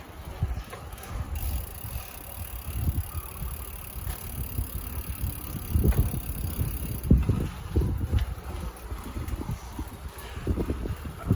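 Bicycle ride along Bangkok canals, a continuous rumble of tyres and wind buffeting the microphone, with scattered knocks and bumps from the bike over uneven ground.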